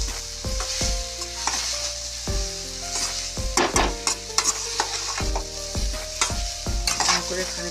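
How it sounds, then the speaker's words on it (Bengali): Grated coconut being stirred as it fries in a kadai, continuous sizzling with repeated scraping and clanking of a spoon against the pan in an uneven rhythm, close and fairly loud, no speech. "খানিকক্ষণ নারকেলটা আমি নাড়বো"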